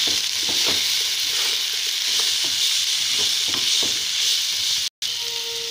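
Snails fry in a pan as turmeric and dried chili powder are stirred in, giving a steady loud sizzle. Soft scraping strokes of the spoon repeat through it, and there is a brief silent gap near the end.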